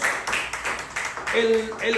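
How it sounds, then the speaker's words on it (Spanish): A church congregation claps in quick rhythmic bursts while a preacher's voice carries over the top. "Den un aplauso a Cristo."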